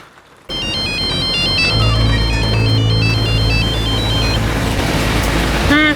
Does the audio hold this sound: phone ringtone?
yes